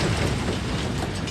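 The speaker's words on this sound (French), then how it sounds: "Le train spécial du maréchal Foch entre en gare de Compiègne" A special train of 1918 pulls into the station at Compiègne, north of Paris, heard as a loud, dense rumble of rolling wheels and rail noise, continuous and close, with no voices.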